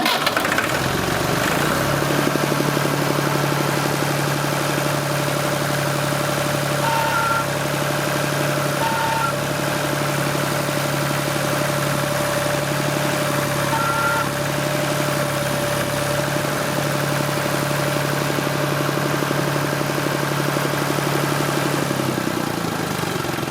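A Massey Ferguson 20 tractor engine catches and settles into a steady, loud idle close by, holding an even mechanical drone with a constant low hum for about twenty seconds, no voices.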